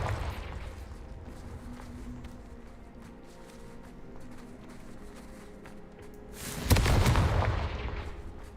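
In the Hogwarts Legacy video game, a Confringo spell goes off as one loud, booming blast near the end, rising out of a steady rumble of game ambience with no talking.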